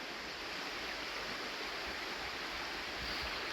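A creek flows at a quiet off-grid homestead, giving a steady, even wash of running water that is soft and continuous, with no voices over it.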